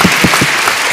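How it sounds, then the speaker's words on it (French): Conference audience at a medical meeting applauding presenters, a loud, close wash of clapping hands that continues steadily through the moment. "Je vous demande qu'on les applaudisse à nouveau pour la qualité de leur présentation."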